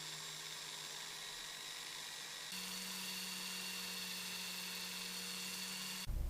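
A drill at its lowest speed sands an epoxy resin and driftwood ring held on the bit with electrical tape, a faint steady whine that steps up in pitch and level midway, ending in a brief louder rattle.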